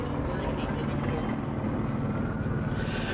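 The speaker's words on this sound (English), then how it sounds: "Yes, that is a helicopter." A helicopter drones with a steady low thumping rumble in the background during a Los Angeles City Council meeting, continuous throughout, with faint voices under it.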